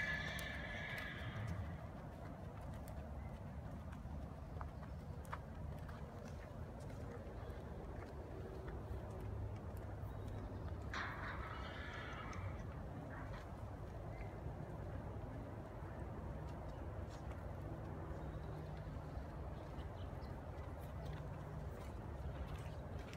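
A lame horse walking down and back, hooves clip-clopping in a faint, steady rhythm with a horse whinnying at the start and again midway, quiet background throughout.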